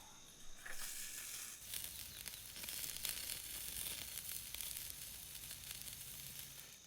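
Shrimp sizzling beside steak on a cooktop while camping in a van, a faint, steady hiss and crackle heard without talking, starting about half a second in and running throughout.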